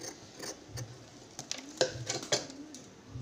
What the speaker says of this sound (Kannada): ಈಗ ಕ್ಲಾತ್ ಜಾಸ್ತಿ ಇದೆ, ಅದಕ್ಕೆ ನಾನು ಕಟ್ ಮಾಡ್ಕೊಳ್ತಿದ್ದೀನಿ